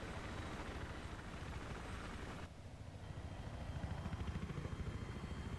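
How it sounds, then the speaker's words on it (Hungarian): A helicopter in the video game Battlefield 3 drones with a steady thudding rotor chop and engine hum, continuous and fairly distant, with a brief dip midway. "Lássunk most egy helikoptert, ha nem megy el előttünk,"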